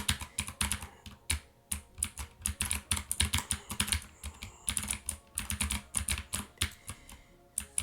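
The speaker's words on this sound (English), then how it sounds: "You can probably hear my keyboard because I don't have the filter on." Rapid typing on a computer keyboard during a gaming session, with dense bursts of crisp clacking keystrokes in uneven rhythm, close and fairly quiet, pausing briefly between flurries with no talking.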